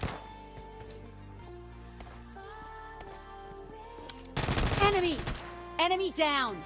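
Gunfire in the mobile game PUBG Mobile Lite, loud bursts of rapid automatic shots in two clusters over a steady game soundtrack and ambient hum.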